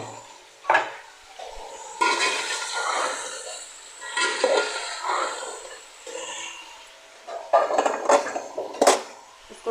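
Beef butt pieces dropped into about two spoons of hot oil in a pan, sizzling and clattering with scraping stirs and a few sharp metallic knocks, moderately close, with a voice talking over it.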